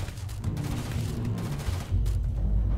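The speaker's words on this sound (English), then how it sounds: "Opening fire!" Dense, loud gunfire during a firefight in the space RPG Starfield, a continuous barrage of shots with heavy low-end booms over a brief stretch.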